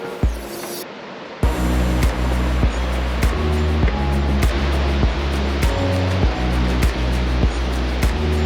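A waterfall near Banos, Ecuador sends up a steady, broad rushing roar that fills the whole clip, with a regular rhythmic pulse running over the water noise.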